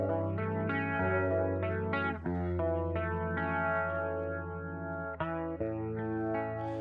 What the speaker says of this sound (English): that's essentially your bass horn and your treble horn spinning on a Leslie cabinet. So that's what's getting us that chorusy sound